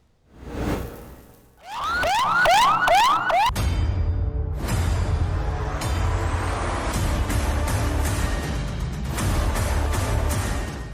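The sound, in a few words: ambulance siren stuck in traffic after rally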